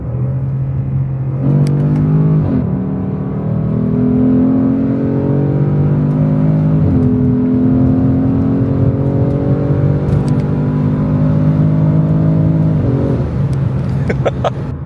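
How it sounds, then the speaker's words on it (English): A boosted Acura TL-S pulls hard through second gear, engine note rising in pitch over several seconds, then a short break and a second strong climb, loud and close with a steady rumble. "Let's get a quick second gear pull in with this thing."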